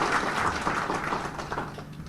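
An Indonesian audience at a formal speech applauds steadily for about two seconds, dense clapping that fades slightly toward the end.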